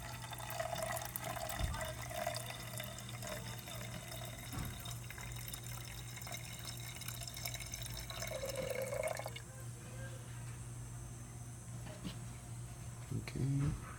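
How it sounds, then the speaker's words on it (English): Engine coolant poured slowly from a jug into a car's coolant reservoir, a steady trickling water sound running through most of the span with a faint hum beneath and a brief clunk at the end. "So come back over here, and then just slowly pour it in."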